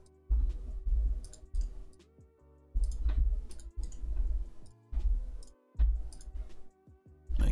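Trading cards being shuffled at a card game tournament table, bursts of crisp riffling clicks repeating in a steady rhythm, close and fairly loud, with short gaps between each shuffle.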